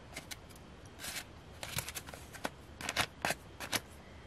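Paper being cut by hand with scissors for a handmade prayer journal, a quiet series of short crisp snips and rustles in uneven bursts.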